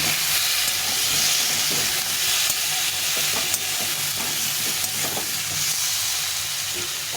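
Taro is sautéed with turmeric in a pan, giving a loud, steady close sizzle and hiss with faint stirring scrapes throughout.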